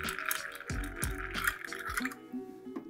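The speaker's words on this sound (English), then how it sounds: "So I'm serving it straight into the glass" Liquid is poured into a glass in a few short glugging bursts as a Rabo de Galo cocktail is served, close and fairly quiet, ending in a soft trickle.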